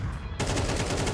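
Rapid automatic gunfire rattles in a shooting video game, a quick dense burst kicking in abruptly and running continuously for under a second, loud and close.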